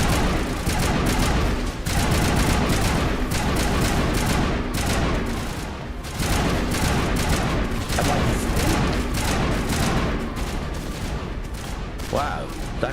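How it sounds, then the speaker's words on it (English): Dense gunfire from enemies in the video game Mass Effect, rapid overlapping shots and bursts forming a near-continuous loud barrage, with a voice talking over the shooting. "What are you shooting at me for?"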